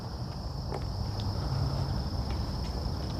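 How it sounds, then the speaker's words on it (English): Crickets chirp in a steady high trill near a creek on a morning hike, continuous and moderately close over a low outdoor rumble and a few faint footfall-like knocks, with no talk. "Sounds like this is where most of the crickets are coming from."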